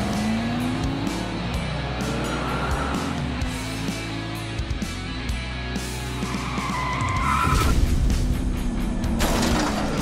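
Diecast toy cars, including a '68 Plymouth Barracuda, race down a track in a ZAMAC finals heat. A steady roar and skidding rush runs throughout, swelling louder near the end.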